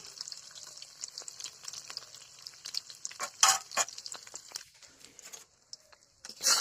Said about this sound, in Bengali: ডিমটা একটু নাড়াচাড়া করে দিচ্ছি